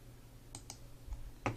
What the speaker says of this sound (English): I will click my data and go to the home and click the border